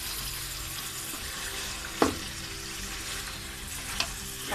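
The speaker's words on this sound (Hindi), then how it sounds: "और अब हम इसको थोड़ा सा चम्मच चला के पकाएंगे, मिक्स करेंगे" Meat pieces frying in hot oil for Delhi-style nihari, stirred with a spoon over rising heat: a steady broadband sizzle with a couple of sharp scrape-and-clink accents from the spoon against the pot.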